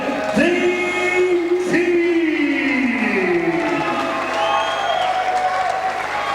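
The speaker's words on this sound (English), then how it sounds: "a big round of applause for Byron Gallagher" A crowd at a kickboxing event applauds IKBF light heavyweight champion Byron Gallagher, a steady, moderately loud spread of clapping from a hall audience that carries on evenly throughout.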